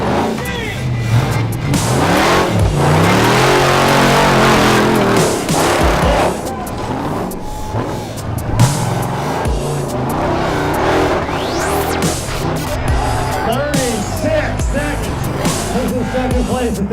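Off-road truck on 54-inch tall tires racing in an off-road competition, engine revving loudly and surging with shifting pitch, tire noise and skids, with crowd and announcer talk underneath.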